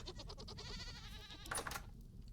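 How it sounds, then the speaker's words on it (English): Goats in the survival game Vintage Story give faint, wavering bleats over quiet game ambience, with a brief brighter clatter near the end. "Hello, goats."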